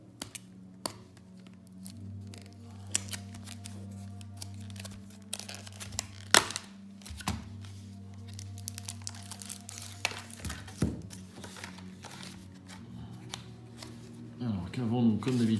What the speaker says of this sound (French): Et je vais ouvrir ce paquet.